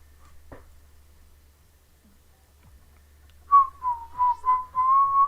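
A person whistles a short wavering tune, a few clear, fairly loud notes close by after a quiet stretch with a couple of faint clicks.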